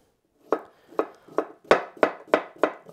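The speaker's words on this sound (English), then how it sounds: "Let's do some cucumber. I'll just do some slices for my salad." A knife slices cucumber on a wooden board for a salad, seven or eight crisp chops in an even rhythm, close and clear with no talking.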